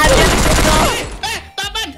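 A rapid burst of gunfire from the Free Fire shooter game rattles loudly for about a second, then cuts off as a voice starts talking.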